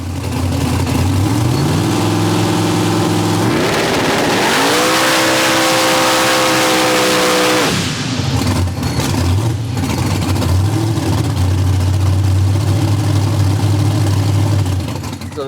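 A 3500+ hp SMX Jeep engine roars loudly and continuously on a dyno, its pitch stepping up and holding before dropping back to a lower steady drone.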